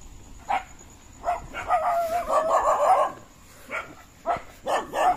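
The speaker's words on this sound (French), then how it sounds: "il y a encore 2 autres chiens errants tout au fond" Stray dogs in Indonesia barking and yelping in uneven bursts, some calls stretched into longer howl-like cries, moderately close with gaps of quiet between volleys and no voices.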